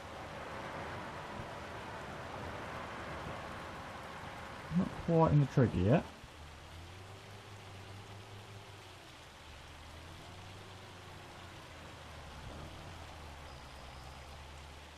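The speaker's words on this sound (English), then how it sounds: "it is really starting to rain now" Steady rain falling in Farming Simulator 25, a constant hiss that runs the whole length of the clip under a man's brief speech and a low drone of machinery.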